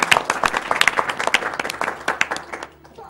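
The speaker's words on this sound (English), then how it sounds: "A round of applause for yourselves." A speedrun event crowd breaks into lively applause, dense clapping from many hands that swells and then tapers off toward the end, loud and close in a large room.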